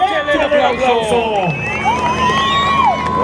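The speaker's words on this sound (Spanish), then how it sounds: "¡Fuerte aplauso al público!" A rodeo audience cheers loudly and continuously, with overlapping shouts, whoops and whistles filling the arena up close.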